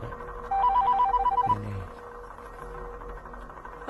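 A telephone rings with a repeated electronic two-tone trill, one ring burst at moderate volume followed by a quieter pause in a room.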